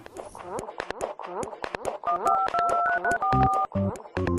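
Several pairs of steady electronic telephone keypad tones beep in sequence, loud and close, following a stretch of lively voices talking.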